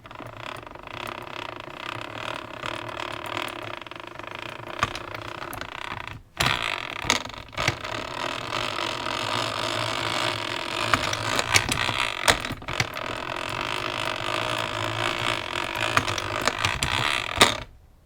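Boutell Triumph antique apple peeler with a fitted hand crank, its mechanism cycling with steady creaks, clicks and ratcheting clatter, a short pause partway through, then resuming its busy metallic rhythm up close.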